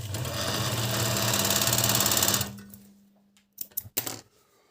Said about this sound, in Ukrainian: І звичайний чотирьохниточний шов.